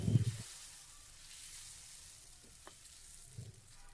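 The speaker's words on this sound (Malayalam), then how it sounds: "ഇനി പാൻ വെച്ചിട്ട് നമ്മുടെ ഗോതമ്പ് ദോശകളൊക്കെ ഒന്ന് ചുട്ടെടുക്കാം." Wheat dosa batter hits a hot pan with a loud burst of sizzling, which then settles into a soft, steady hiss with a couple of faint crackles later on.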